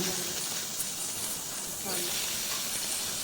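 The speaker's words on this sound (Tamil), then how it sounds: "கிராம்பு லவங்கம் எல்லாம் போட்டாச்சு நல்லா வதக்குங்க" Cloves, fennel, urad dal and cinnamon sauté in oil in a pan for spinach soup. A constant, fairly loud hiss of frying runs the whole time, and a person speaks over it.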